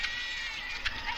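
Sheep bleating in a village setting, a faint, short wavering cry heard once or twice over a quiet background.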